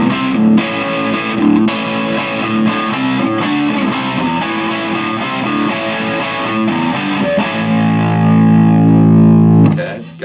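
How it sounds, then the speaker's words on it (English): Electric guitar played through a Roland Blues Cube amp on the crunch channel with the boost engaged, giving a driven, sustained tone of chords and single notes that rings on steadily and loudly, with no talking. "okay, got the crunch boost on there."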